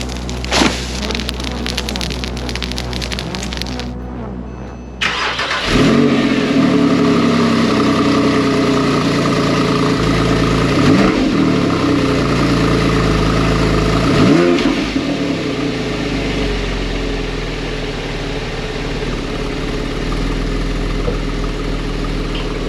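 A Porsche 911 with a custom exhaust cranks and fires up, then revs in several rising bursts before settling to a loud, rumbling idle, heard up close with no voices.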